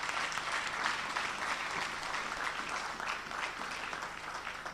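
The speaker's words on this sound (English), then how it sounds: "please stand up and give another warm round of applause" A standing audience at a national civic education and health skills programme launch gives a warm round of applause, with continuous, even clapping from a large crowd at moderate level.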